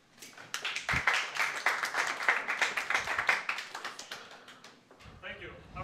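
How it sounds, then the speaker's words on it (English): Audience applause at a blockchain and AI meetup in Amsterdam, a burst of clapping from a modest crowd that swells quickly, holds steady, then fades out within a few seconds. "round of applause"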